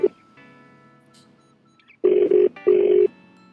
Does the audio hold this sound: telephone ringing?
yes